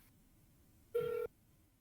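A single short telephone ring tone sounds over a speakerphone, a brief clear electronic pulse lasting about a third of a second against a faint hum.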